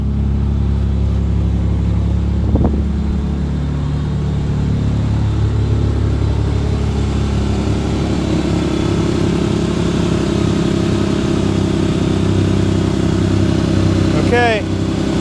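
A 1994 Ford Ranger Splash pickup engine idles steadily after a cold start in snowy winter weather, a loud, close, continuous low rumble that barely varies for the whole stretch, with a brief faint squeak near the end.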